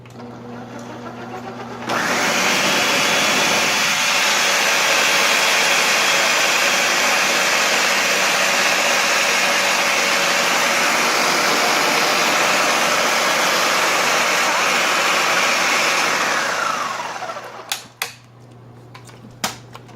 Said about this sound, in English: hold your ears, because this thing is pretty loud, but it gets the job done